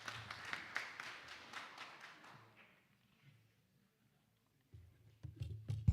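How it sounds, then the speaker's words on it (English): Workshop audience applause fades out over the first three seconds, a burst of light, scattered clapping that dies away into near silence before a few close thuds and taps near the end. "thank you for that applause"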